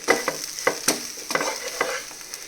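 Country chicken frying with eggplant and spice powders in a pan: a bright, continuous sizzle with repeated scraping stirs and a few sharp ladle knocks, close and fairly loud, no talking.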